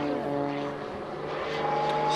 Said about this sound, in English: pushing the aircraft over the top in a bunt